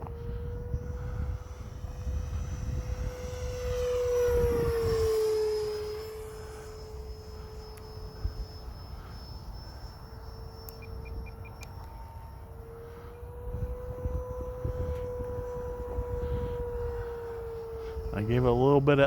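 An E-flite Viper RC jet with its wheels retracted flies overhead, its electric ducted fan giving a steady whine that swells and fades as it passes, over a constant wind-like rumble, with a voice talking intermittently.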